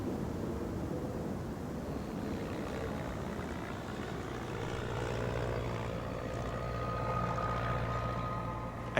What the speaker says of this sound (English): I hear this plane,